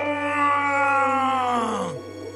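A living rock in a dark railway tunnel lets out a loud, drawn-out groaning rumble like a giant snore, a single tonal moan that slowly slides downward in pitch before cutting off, over a steady low hum.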